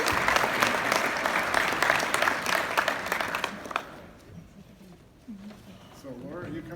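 Audience applause for an award winner at the ePay Resources 2019 Richard R. Oliver Payments Leadership Award presentation, dense clapping from a crowd that fades out after a few seconds as a voice begins speaking.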